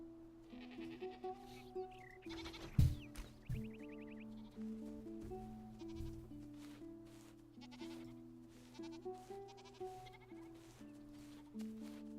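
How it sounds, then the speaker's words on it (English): Several goat bleats from a video game sound one after another against calm tonal background music, with a brief louder thump partway through. "you can pet goats"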